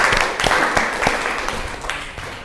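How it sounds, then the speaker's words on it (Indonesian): Classroom audience clapping for a student group after their presentation, a dense, steady patter of many hands at moderate distance, fading slightly toward the end. "aplaus dulu ke temannya"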